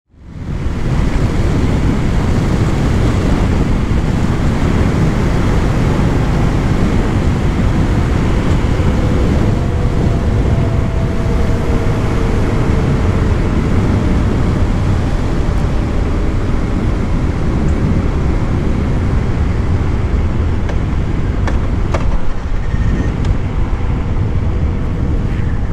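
Harley-Davidson LiveWire electric motorcycle on the move, heard mostly as steady, loud wind rush and road roar across the whole stretch, with only a faint thin whine riding above it.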